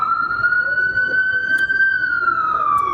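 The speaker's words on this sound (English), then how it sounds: "Let's let this ambulance pass by" An ambulance siren passing close by in the street, a loud steady wail with bright overtones that rises slightly and then falls away, with faint traffic noise underneath.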